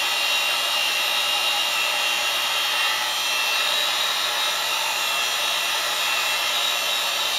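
A heat gun on a low setting blows a steady, loud whooshing hiss while heating EVA foam, continuous and close with no talking.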